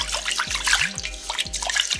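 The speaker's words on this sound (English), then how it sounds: "I'm gonna wash this rice." Rice is swished and rubbed by hand in a bowl of water, making a close, continuous splashing and trickling with small drips and bubbly gurgles, with no talking.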